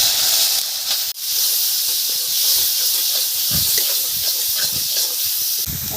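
Thankuni leaf paste hits hot oil with dried red chillies and whole cumin, giving a steady, loud broadband sizzle and hiss that runs throughout, with a brief dip early on and crackling pops near the end.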